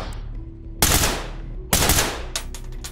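Two loud, close gunshots from an assault rifle fire during a nighttime hostage-rescue raid in the Ready or Not tactical shooter, followed by quieter trailing shots and room echo.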